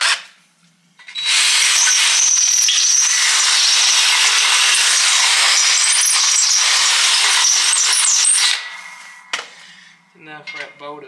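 Drilling through a mower deck to enlarge a hole for a 61-inch grass flap on a 52-inch Scag V-Ride, with no proper bit on hand. Loud, steady, close grinding runs for about seven seconds, then stops, followed by a few brief clanks.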